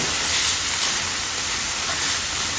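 A curry base for ice apple (palm fruit) curry frying in a pan, giving a steady, close sizzling hiss with no talking.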